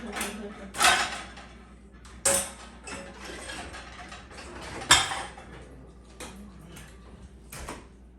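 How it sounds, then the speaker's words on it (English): An old dishwasher is opened with a series of mechanical clunks, rattles and clicks from its door and racks, several sharper knocks standing out amid quieter handling noise. "There it is. The old dishwasher."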